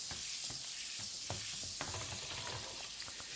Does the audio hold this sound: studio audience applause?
no